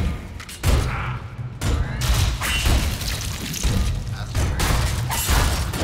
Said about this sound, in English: He's shooting at the wall.